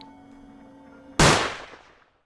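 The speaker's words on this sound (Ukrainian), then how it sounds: "Пролунав постріл." A single sharp pistol shot cracks after a brief low hum, loud and close, then its echo fades away quickly.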